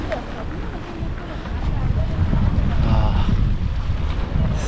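Heavy rushing water roars steadily up close at the Bhadra Dam, with wind buffeting the microphone and growing louder partway through.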